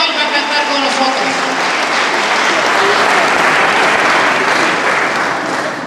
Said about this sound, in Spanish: para que le pida un fuerte aplauso a esa gran cantante ecuatoriana